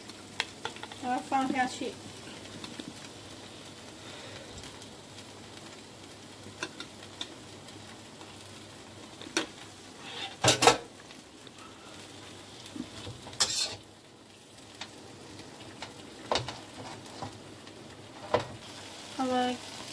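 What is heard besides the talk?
stir-frying vegetables in butter in a pan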